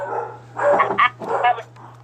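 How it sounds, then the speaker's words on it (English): A pet dog barks indoors, a few sharp close barks in two quick bursts over a steady low electrical hum, no speech. "now that my dog's barking"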